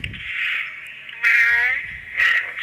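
Synthetic cat meow from a voice-changer app, two drawn-out mewing calls with a short gap between them, loud and close, with a brief low voice murmur at the very start.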